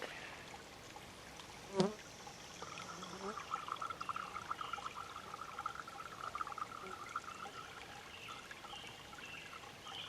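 Water pours and trickles steadily into a Box of Joe water bladder, a faint continuous stream after a brief knock, with light background hum.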